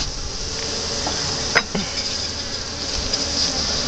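Honey bees buzzing around an open hive during an inspection, a dense steady drone close by with a faint clink partway through.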